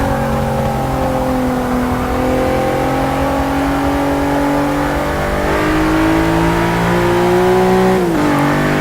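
A roughly 1,000-horsepower race car in the Forza Motorsport video game holds a loud, steady high-revving engine note that climbs slowly, then briefly dips at a gear change near the end.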